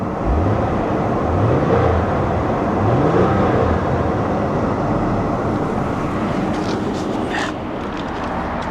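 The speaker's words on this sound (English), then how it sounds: "Give it a little rev." A Ford Mustang on air ride at an auto show revs its engine, with deep rising engine sweeps repeating a few times over a steady loud rumble and surrounding hall noise.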